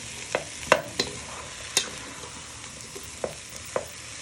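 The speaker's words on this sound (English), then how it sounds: "You want to give these a good stir so they go nice and soft." Tomatoes and red peppers fry in a pan for tomato and red pepper soup, with a spoon clattering and scraping in several sharp strokes over a continuous hiss of sizzling, close and with no talking.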